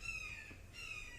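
Two faint, drawn-out bird caws, likely from crows, sound some distance away, separated by a short pause, over quiet background noise.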